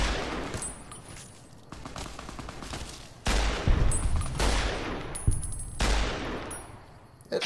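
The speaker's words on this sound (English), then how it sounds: "that's the power of the survivalist rifle right there" Several loud survivalist rifle shots in Fallout: New Vegas ring out with long, ringing decays, spaced a second or two apart and set against quiet ambience.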